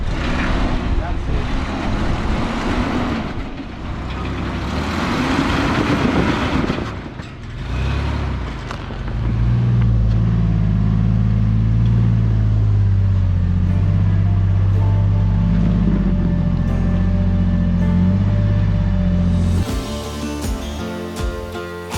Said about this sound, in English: Just got to get the 4Runner up.